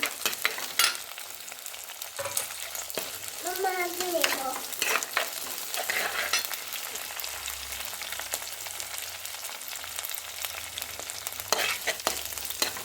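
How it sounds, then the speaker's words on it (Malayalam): Fenugreek, green chilli, shallots and curry leaves sauté and wilt in a pan, giving a continuous crackling sizzle with sharp stirring knocks and scrapes at intervals. "ഇപ്പോൾ നമ്മളിതിലേക്ക് ഇട്ടത് ഉലുവ, പച്ചമുളക്, ചെറിയുള്ളി, വേപ്പിൻ്റെ ഇല. അത് നല്ല വാടി വരട്ടെ"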